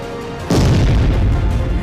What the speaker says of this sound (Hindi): इस ब्रिज पर आज सुबह 6 बजे जोरदार धमाका हुआ।